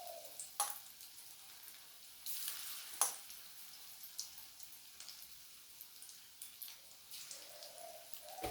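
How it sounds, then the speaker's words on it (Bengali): Green plantain pieces fry in hot oil with a steady, soft crackling sizzle and a few sharper pops and stirring clinks, no talking. "বাকি যে কটা আছে সবগুলোই আমি এইভাবে ভেজে নেব"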